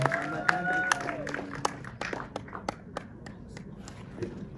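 Applause at a film press conference: a small audience claps in a brief burst of scattered, uneven claps that thin out and fade, with a voice speaking over the start.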